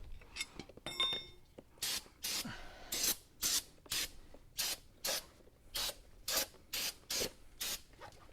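Brake cleaner sprayed onto a car brake in a garage in a series of short, even hissing bursts at a steady rhythm, close and clear, after a brief clinking at the start.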